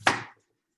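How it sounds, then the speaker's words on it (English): A single sharp knife chop on a cutting board trims the end of a cucumber, close and crisp, then quick silence. "I'm going to cut the ends."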